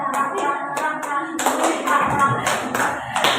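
An audience at a school training session breaks into clapping, scattered claps at first that swell into fuller group applause, with a voice speaking over them early on.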